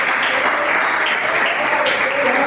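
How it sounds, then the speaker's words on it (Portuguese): Applause from a church congregation fills the room, a steady dense wash of many hands clapping at even loudness throughout, with a faint voice or cheer rising briefly above it. "Um aplauso para"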